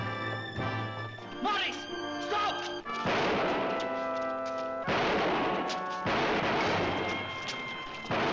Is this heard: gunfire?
yes